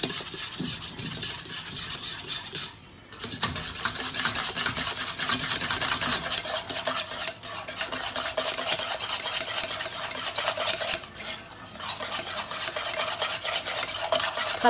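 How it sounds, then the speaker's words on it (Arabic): Cream comes to a boil in a pot and is stirred nonstop, a dense scraping, rubbing swish with a faint bubbling sizzle underneath, close and continuous with only two brief pauses. "بدات طاقه الكريم، بدات تغلي. ما نقصوش عليها التحريك."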